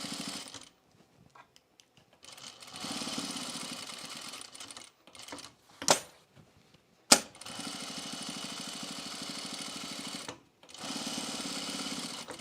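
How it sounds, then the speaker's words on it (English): Sewing machine top stitching a pullover camp dress, several bursts of rapid steady stitching separated by pauses, with a couple of sharp clicks between runs, close and with no talk. "All right, let's top stitch."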